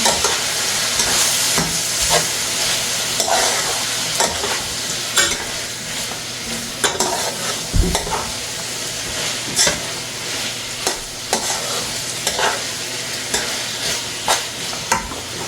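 Ackee and saltfish seasoned with Maggi stirred in a hot pan, a steady sizzle broken by repeated spoon scrapes and knocks against the pan, close and fairly loud.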